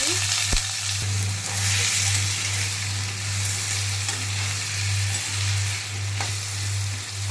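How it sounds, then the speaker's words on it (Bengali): Diced potato and elephant foot yam frying in oil with black cumin, a steady close sizzle over a constant low hum, with no talking. "আলু আর ওলটাকে খুব ভালো করে একটু ভেজে নেব।"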